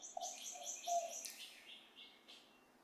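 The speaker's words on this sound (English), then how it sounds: "We hear the birds maybe chirping outside" Faint birds chirp outdoors, heard from inside during an opening ceremony: a few short, high tweets and calls spread across a quiet, distant background.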